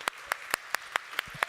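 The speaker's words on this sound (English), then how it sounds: "please give our brilliant artists a round of applause" Scattered hand claps from an audience for artists at an AI summit main stage, heard as a short run of separate, evenly spaced claps rather than a full ovation, with no talking.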